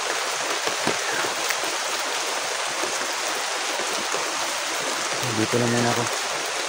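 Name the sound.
rain falling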